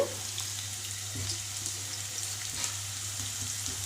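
Chopped vegetables with green chillies, garlic and spring onions fry in a pan with a little salt, giving a continuous close sizzle and light crackle.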